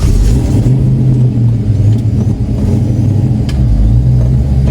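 A 1969 Mustang Mach 1 with a 331 stroker engine, Novi 2000 supercharger, aluminum heads, new camshaft and methanol injection, producing a loud, deep, rumbling rev that swells and holds steady close by.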